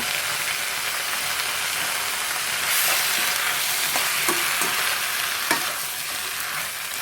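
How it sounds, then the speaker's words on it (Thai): Kale and canned fish stir-fried vigorously in a hot pan, a steady loud sizzle with occasional scraping knocks of the spatula, no talking. "นี่ผัดไปแรงเลยนะคะ"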